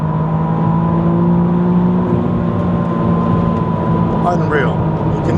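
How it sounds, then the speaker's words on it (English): A 2025 McLaren Artura Spider accelerates hard in manual mode, its engine holding a loud steady drone with turbo whir and wind noise throughout. "You can hear the turbo sounds, everything is just making noises."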